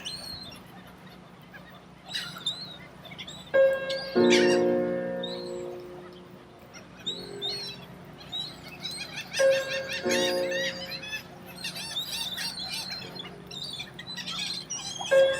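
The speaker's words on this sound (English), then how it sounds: "Especially that many birds." Many birds calling together on the Texas coast at Galveston after Hurricane Beryl, a busy mix of chirps, squawks and honking calls rising and falling throughout, fairly close, with no one speaking.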